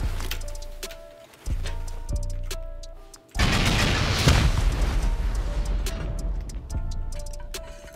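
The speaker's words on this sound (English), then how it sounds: "Let's try sending off 16 rockets without getting deleted by counters" Rockets are launched one after another during a raid on a bunker in a survival video game, with rapid clicking thumps, then a loud sustained whooshing roar and scattered later clicks, no voices.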